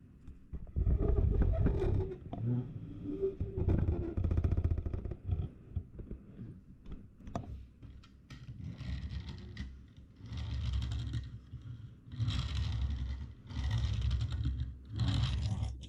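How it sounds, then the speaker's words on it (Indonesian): Diecast Ferrari 599XX model car rolling on a surface, giving repeated small ticking and scraping wheel noises in short bursts, close and fairly loud, with no talk over them. "untuk misalnya di tes jalan ini bunyi kitik-kitik gitu"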